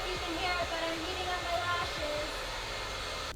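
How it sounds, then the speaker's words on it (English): Blow dryer running continuously at close range while heating an eyelash curler, a steady loud whirring hiss with a few low bumps of handling early on. "Heat up your eyelash curler with a blow dryer."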